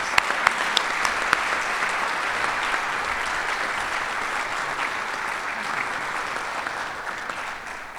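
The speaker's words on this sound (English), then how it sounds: "Let's give him another round of applause." Audience at a Rotary club meeting gives a steady round of applause, a dense wash of clapping with a few sharper nearby claps at the start, continuing evenly and fading slightly at the end.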